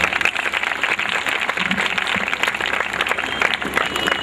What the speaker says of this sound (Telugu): మరి ఇంకొక యవనులను చప్పట్లతో ఆహ్వానిస్తాం.